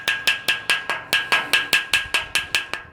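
Light metal tapping as a small tool knocks rust spots off an iron fence before painting, about fourteen sharp, evenly spaced taps repeating steadily and close up, with no talking.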